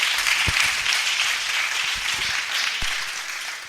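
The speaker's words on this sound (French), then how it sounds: "Let's clap the Lord." A church congregation applauding together in praise, a dense, steady wash of clapping from many hands filling the room for a few seconds.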